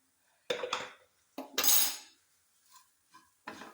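A spoon stirs garam masala through a beef cutlet mixture in a bowl, several close bursts of scraping and clinking at an uneven pace with short quiet gaps, no voices.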